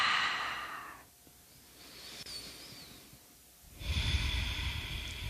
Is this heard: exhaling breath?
yes